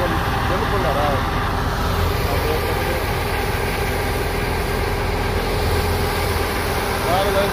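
A 1999 Fiat 640 tractor runs a thresher working on wheat, giving a constant, loud low engine drone with steady machine noise throughout, while people talk over it.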